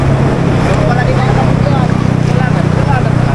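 A fiberglass boat with twin engines runs at sea, its engines droning loud and steady alongside wind and water rush. A voice talks over the engine noise throughout.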